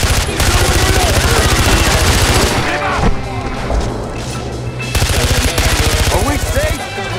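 Rapid automatic gunfire rattles from a gun mounted under a car dashboard in the Far Cry 4 video game, in loud, sustained bursts with a brief lull midway before the firing resumes.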